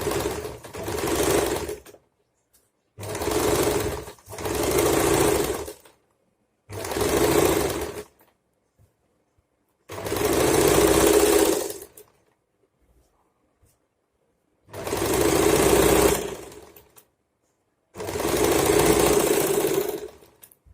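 Sewing machine stitching palazzo trousers runs in seven loud bursts of steady rapid whirring, each lasting one to two seconds, with short silent pauses between them and no talking.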